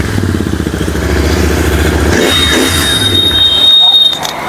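Royal Enfield Continental GT in chrome, a first-owner top model, idling loud and close after starting, with a rough thumping exhaust note and a mechanical whine rising toward the end.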